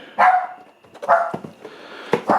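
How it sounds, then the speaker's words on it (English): A miniature cockapoo barks in a few sharp, fairly close yips in quick succession, each with a short whiny tail. "that is my dog barking in the background if you heard that"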